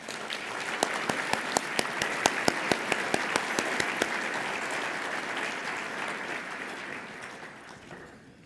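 Audience applause at a legal aid annual meeting award ceremony, a dense wash of clapping across a room with a few sharp individual claps standing out early, then thinning and tapering off toward the end.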